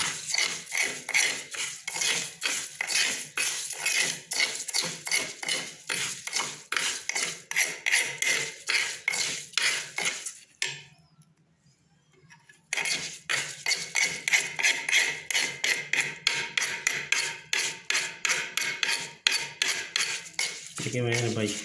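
Bajra grains for pigeon feed being mixed by hand in a metal pot: a fast, rhythmic rattling and scraping of grain against metal that stops for about two seconds midway, then resumes.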